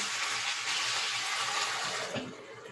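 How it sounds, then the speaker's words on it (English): A little water is poured into a pan while cooking pork chops, giving a steady bright splashing hiss that tapers off at the end, with no talking. "I'm just going to add just a little bit of water."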